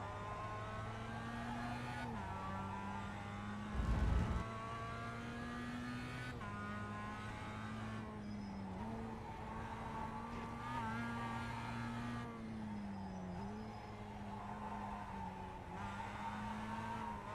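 A Mazda MX5 race car engine from a racing video game at Zandvoort drones steadily at high revs, its pitch dipping and climbing through gear changes, with a brief louder thump early on and no voices.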